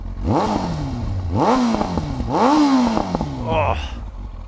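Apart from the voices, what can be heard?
1999 Kawasaki ZX-9R motorcycle exhaust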